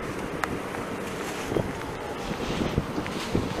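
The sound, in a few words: wind blowing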